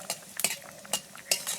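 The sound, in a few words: adding nigella seeds and dried chillies to hot mustard oil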